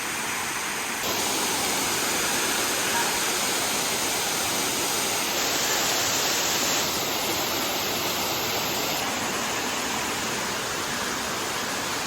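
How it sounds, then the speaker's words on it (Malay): Steady, dense roar of water pouring down at Stone Waterfall (Air Terjun Stone) in Lingga, loud and continuous with no voices. "kita di Air Terjun Stone"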